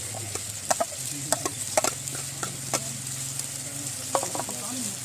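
Ginger and garlic frying in hot oil with a steady sizzle, broken by several sharp scrapes and clinks of a spoon stirring against the pan, close up and without talk.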